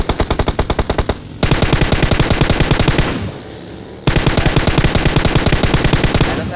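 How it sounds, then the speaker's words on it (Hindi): Rapid automatic gunfire in PUBG Mobile, loud and close, comes as three bursts of evenly spaced shots with brief pauses between them, the rhythmic rattle dominating with no talk over it. "मतलब भाई मैंने इसको इतनी गोलियां मारी"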